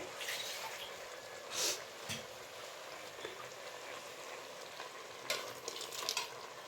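Freshly ground masala fries with a soft, steady sizzle in a pan for a Kabuli chickpea curry, broken by occasional louder stirs and scrapes, fairly quiet and without talk.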